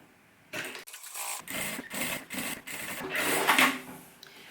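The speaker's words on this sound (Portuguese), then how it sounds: "joga pro outro lado e rebate a costura." A sewing machine topstitches a seam on synthetic fabric for a zippered pouch, running in a close, loud steady whir broken into several short bursts with brief pauses between them.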